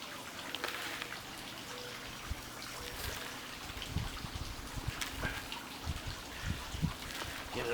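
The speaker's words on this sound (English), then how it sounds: "Now put your dirt in all around it." Topsoil mix with manure and fertilizer is packed in around a potted plant, giving a steady crumbly rustle with scattered soft thuds and patters of falling soil.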